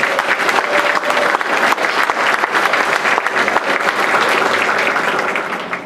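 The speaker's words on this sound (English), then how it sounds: "nice round of applause for Jake." A room at a school board meeting breaks into steady, dense clapping from a seated audience, loud and sustained for several seconds before tapering slightly at the end, with no voices over it.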